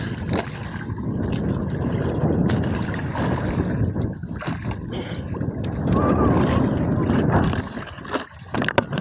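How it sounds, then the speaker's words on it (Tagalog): A strong sea current rushes past while fishing from a small boat: a loud, continuous churning wash mixed with wind buffeting the microphone. The roar surges and falls throughout. "Ay, lakas ng agos."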